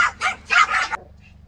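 A few loud, close barks from a Yorkie in a quick burst, then the barking stops and it goes quiet.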